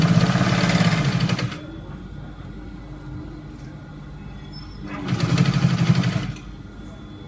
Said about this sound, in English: So you're going to sew it straight down.